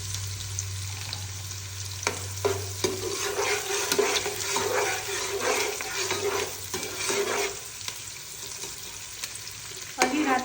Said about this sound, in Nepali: यो प्याज हालेर रातो रातो बनाएर फ्राई गरेर झिक्छु